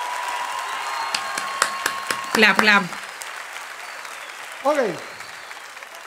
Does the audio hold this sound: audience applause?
yes